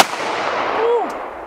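A single .45 caliber handgun shot fired outdoors, a sharp close report followed by a short ringing decay over open ground.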